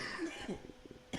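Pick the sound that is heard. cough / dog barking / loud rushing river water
cough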